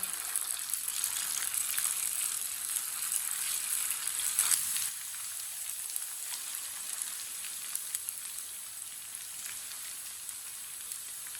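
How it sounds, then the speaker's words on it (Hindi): Kebabs frying in hot oil over a medium flame give a steady, close crackling sizzle like light rain that runs throughout, with a brief louder burst near the middle and then a slightly softer, even hiss. "अब इसे 2 मिनट के लिए मीडियम आंच पर फ्राई होने देते हैं"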